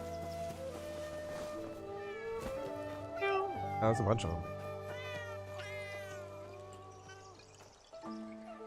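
Several cats meow in a video game, with repeated high, wavering calls running through most of the stretch while a person talks over them.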